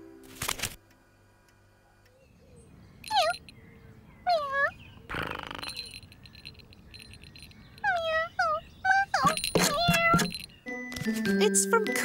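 A cartoon cat gives several short rising meows amid quiet background, interspersed with brief clattering and voices from the scene.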